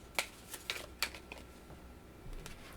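Tarot cards being shuffled by hand, a few crisp riffling bursts and soft flicks spaced irregularly over a quiet background, fairly close and low in level.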